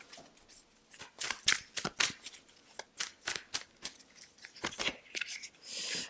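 Tarot cards are drawn and slid from a deck in a series of quick, crisp papery flicks and slaps, close and fairly quiet, with short pauses between groups of cards.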